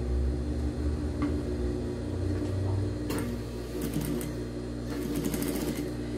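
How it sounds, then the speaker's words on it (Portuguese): A sewing machine runs steadily, stitching a finishing seam along the edge of a baby bodysuit shirt, its motor hum and rapid needle chatter close and continuous, alone without talk. "Agora, nós vamos passar uma costura aqui bem na bordinha aqui, que é como um acabamento, tá?"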